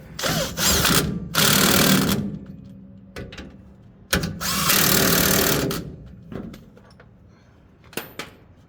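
Power tool driving brake caliper bracket bolts back in on a car with a sticking caliper, two long loud whirring bursts each followed by shorter clicks and ratchet taps, close and with no talk.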